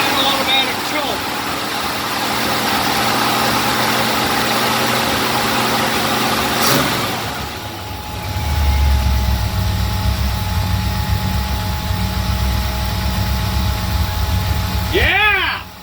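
A 1964 Chevy C10 engine with an automatic choke idles steadily after a couple of revs, a low continuous rumble with a brief surge partway through and voices talking over it.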